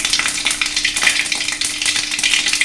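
Mustard seeds crackle and splutter in hot oil in a kadai while an ash gourd pachadi is being cooked. A dense, steady sizzle runs throughout, with sharp pops scattered through it, close and fairly loud, and no talking.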